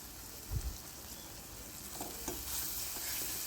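Curry leaves and garlic paste fry in hot oil for a tempering for a cluster bean (gavar) vegetable, a steady quiet sizzle with a couple of soft stirring scrapes and no talking.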